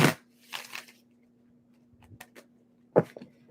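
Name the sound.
shuffling tarot cards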